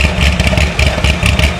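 A Chevrolet Corvette C6 Z06 on its stock exhaust idles close by with a loud, deep, lumpy burble and rhythmic low pulses, heard on its own.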